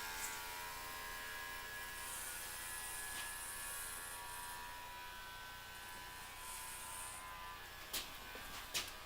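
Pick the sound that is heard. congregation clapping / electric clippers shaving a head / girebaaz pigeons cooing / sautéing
electric clippers shaving a head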